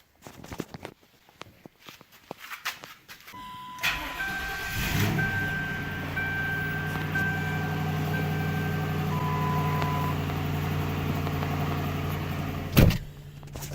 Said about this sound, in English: Now we're going to try starting the car and running it a little bit and see what happens.